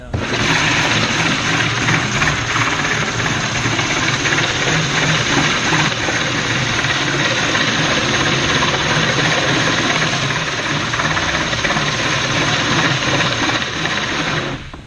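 A floor grinder fitted with a wood mastic removal block grinding old finish off a floor runs loud and steady, a dense unbroken motor drone with grinding texture throughout, no talk.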